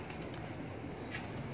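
Faint cooing from a flock of hobby pigeons, soft low calls repeating steadily in a quiet, distant backdrop.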